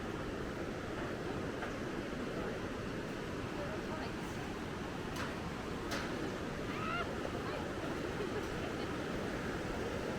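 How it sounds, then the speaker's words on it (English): A steady, broad roar of rushing water from a waterfall in the Australian bush fills the scene without pause, with faint scattered sounds above it. "I can see the waterfall down there."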